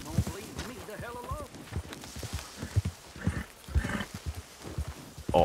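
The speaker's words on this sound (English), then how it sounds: "All-terrain horse." Horse hooves clip-clop in the Red Dead Redemption 2 video game, with a short whinny early on, all running under steady talk from a man in the room.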